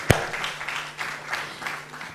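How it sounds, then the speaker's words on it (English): An audience at a university business school event gives a short round of applause, beginning with one sharp clap and followed by scattered, fairly soft clapping in a hall. "Round of applause for him."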